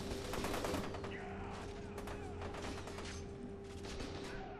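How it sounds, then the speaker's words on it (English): Rapid bursts of video game gunfire from F.E.A.R. 2: Project Origin crackle continuously over a dense, noisy background, steady and moderately loud throughout. "What's with the gunshots? Is that really necessary?"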